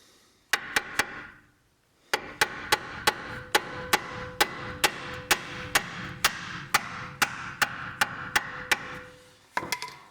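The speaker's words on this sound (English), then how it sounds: "we're just gonna lightly tap it with the hammer" Steady, evenly spaced light hammer taps on metal while changing a lower control arm on a Nissan Sentra, about two per second after a short pause, sharp and close with a faint hum between strikes.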